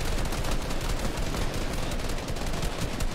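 Continuous heavy gunfire in a competitive online shooter tournament match, a loud unbroken barrage of overlapping shots from start to finish.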